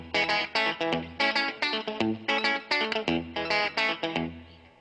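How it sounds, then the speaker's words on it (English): Electric guitar picked with a finger pick through an echo effect, a clear run of bright, distorted-sounding plucked notes in steady rhythmic bursts, each repeat trailing off, played alone and up close. "if you used the finger pick, you could get actually a different sound with the echo feel"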